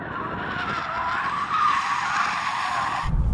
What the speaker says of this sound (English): have the stability off, and it should, in theory, be able to drift